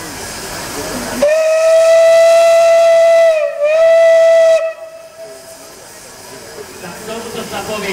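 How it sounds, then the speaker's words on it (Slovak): A steam locomotive whistle blows loud and steady for about three seconds with a brief dip midway, then it stops and faint crowd noise and talk continue at a railway event in Zvolen. "Tomuto sa povie píšťala."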